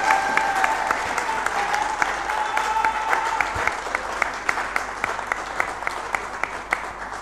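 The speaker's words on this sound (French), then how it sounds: "Je vous demanderai humblement de plein joie qu'il y ait plus d'applaudissements pour la personne de Symphoria Katende" Audience applause fills an award ceremony hall, a steady dense wash of clapping with a few sharper individual claps standing out, continuing loud and unbroken throughout.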